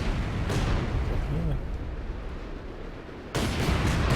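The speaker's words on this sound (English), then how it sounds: "Looks like those guys ran over a mine there." Mine exploding under troops in the World War II strategy game Company of Heroes 2, a heavy boom followed by a sharp second blast near the end, amid rumbling battle noise and a voice talking.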